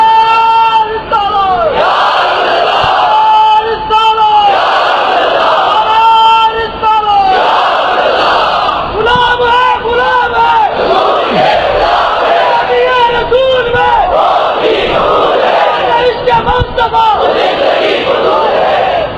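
Crowd chanting religious slogans in loud, rhythmic unison, with repeated call-and-response swells and yells dominating throughout.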